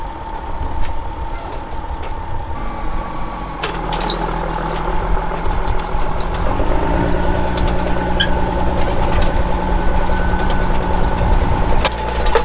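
Tractor engine running steadily while harrowing a field with a crumbler and leveler boards, a loud close drone with a constant low hum and occasional faint clanks, no talk.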